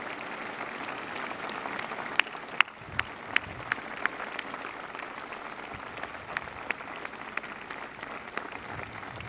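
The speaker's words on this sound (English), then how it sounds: "Give yourselves a round of applause." Service members aboard the aircraft carrier USS Ronald Reagan applaud steadily throughout, a broad crowd clapping with a few sharp individual claps standing out, moderately distant and without speech.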